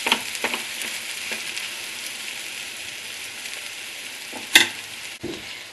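Onions caramelising in a pan for old-fashioned liver, bacon and onions, giving a soft steady sizzle with a few sharp clicks and clatters of stirring, and no voices.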